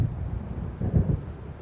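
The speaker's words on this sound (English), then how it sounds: "It seems there's a storm coming." Low, faint rumbling thunder of an approaching storm in the video game Alan Wake rolls softly and steadily, swelling slightly in the middle, with no voices over it.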